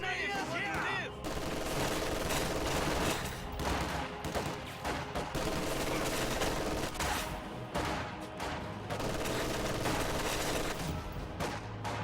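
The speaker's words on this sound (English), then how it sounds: "MG42 moves to fire against the conscripts right here" An MG42 machine gun fires during a video game battle, with repeated rattling bursts and scattered shots packed densely over continuous battlefield noise.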